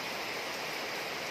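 Steady rain falls in the tropics where durian trees grow, a dense, even hiss of drops with no distinct individual impacts, heard alone and without talk.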